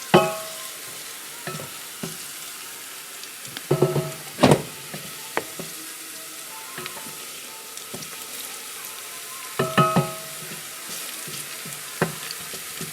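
Ingredients fry in a pan for a beans stew under a soft continuous sizzle, broken by sharp clinks and scrapes of stirring at irregular moments, heard close with no talking.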